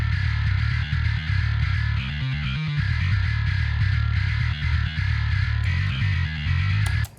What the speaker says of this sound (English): So a lot of distortion and grit, still have the low end.